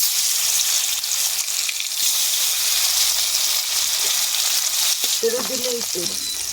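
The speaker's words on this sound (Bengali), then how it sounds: "মাছটা এবার আমি ভেজে নেব" Tilapia fish frying in hot oil in a wok: a steady, close, loud sizzle and crackle runs throughout with no talk, joined near the end by a brief clink of a utensil against the pan.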